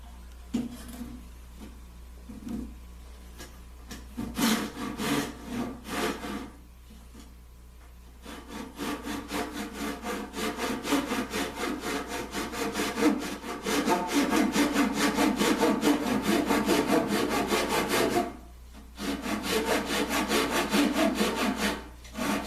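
Steady back-and-forth strokes of a hand saw cutting through wood, rhythmic and close, with a short pause before the strokes resume.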